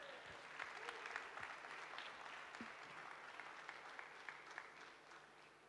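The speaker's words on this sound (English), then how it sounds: "Give her another round of applause" Faint, distant applause from a gastronomy tourism forum audience for a chef, a steady wash of many hands clapping that continues evenly and softens slightly toward the end.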